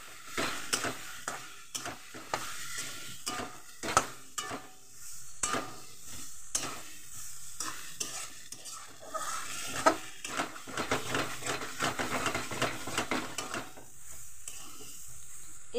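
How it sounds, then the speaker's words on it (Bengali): Cut potatoes are stirred and fried in oily spice paste in a pan, with a constant close sizzle under repeated scraping strokes of a spoon against the metal. "এই মুহূর্তে আমি দিয়ে দেবো কেটে রাখা আলু কটা। আলু কটা দিয়ে আমি আরও একটু কষিয়ে নেব।"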